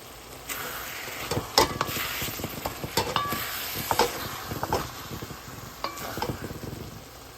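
Eggplant stir-fry being stirred in a frying pan, a continuous close sizzle broken by irregular scraping and clinking strokes of a utensil against the pan, with no voices.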